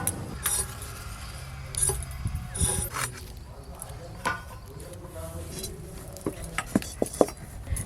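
Potatoes and pointed gourd being cut for a thin fish curry in a rural kitchen, with scattered close knife taps and clinks of utensils, fairly quiet, while people talk in Bengali.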